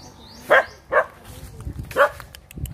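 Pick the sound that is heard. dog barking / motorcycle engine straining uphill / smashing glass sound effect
dog barking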